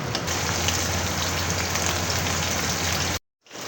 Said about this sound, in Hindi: अच्छी तरह फ्राई कर लेंगे।